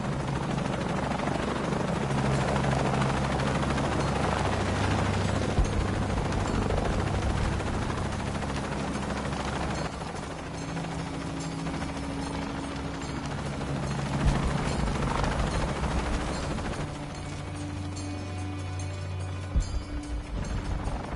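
Helicopter rotor roar from the video game Shadow of the Tomb Raider, a loud, steady chopping drone that fills the whole stretch with mechanical hum and occasional bursts of gunfire-like impacts.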